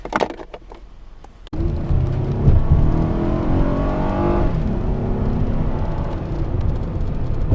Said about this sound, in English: Let's start and let's go test drive.